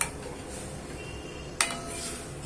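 A spoon stirs dal in a cooking pot. Two faint metallic clinks stand out, one at the start and one partway through, over a quiet background.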